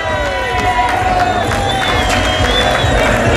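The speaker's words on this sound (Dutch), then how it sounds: "dat is een groot applaus waard" Outdoor carnival parade crowd at Oud Gastel cheering and clapping, a loud, dense wash of applause and whistles with babble running through it.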